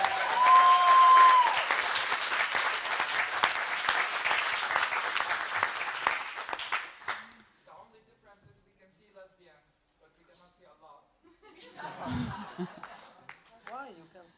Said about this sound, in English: Can we have a big applause for consensual sex?